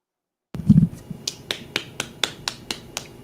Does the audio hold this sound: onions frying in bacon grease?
no